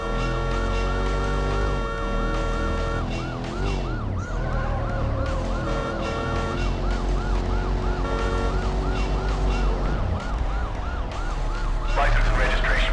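A police car siren wails during a video game pursuit, loud and near, cycling through rising and falling tones over a running engine, with no talk over it.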